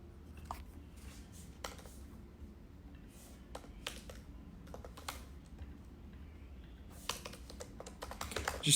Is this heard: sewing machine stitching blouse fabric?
no